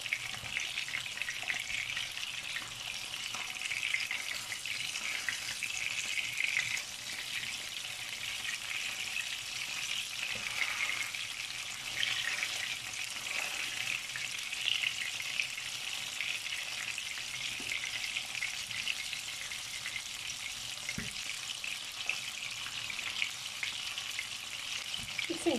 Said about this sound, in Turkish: Görüyorsunuz, bakın piştikçe nasıl çekiyor köftelerimiz.